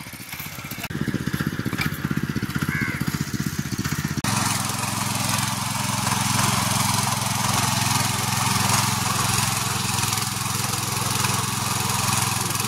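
Power tiller engine running in a flooded rice field in the Konkan during paddy planting, a loud, steady, close engine drone that thickens partway through and continues without a break.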